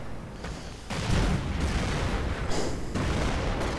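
A Panther tank destroyed in an incendiary explosion in a World War II strategy game, a heavy boom followed by sustained rumbling blasts and battle noise, loud and continuous.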